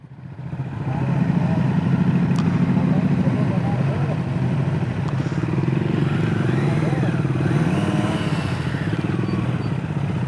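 A 2025 Triumph Scrambler 400X engine runs close by, rising and falling through revs as the rider shifts gears with the quick shifter, a steady mid-pitched drone with people talking over it.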